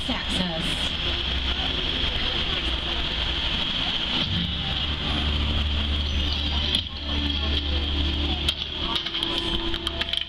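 A studio tour tram rolls down a backlot street at Universal Studios Hollywood, its engine and road rumble steady and fairly loud throughout, with a constant high whine and no clear talk.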